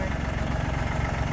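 A vehicle engine rumbles loudly and steadily at close range as the truck reverses and swings into a turn.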